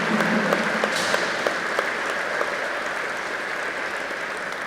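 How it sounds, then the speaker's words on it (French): Steady applause from an assembled crowd honouring a Vovinam grandmaster at a world cup ceremony, an even sheet of clapping with a few sharper individual claps standing out early on, no voices heard. "A round of applause, please."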